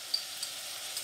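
Spices frying in a pan with onion, garlic and ginger for Lahori chickpeas: a soft, steady hiss of sizzling oil with a few faint ticks, quiet and close, with no voices.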